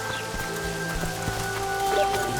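Rain in The Witcher 2 falls as a steady, fairly loud wash beneath held musical tones, with a few soft thuds and no talking.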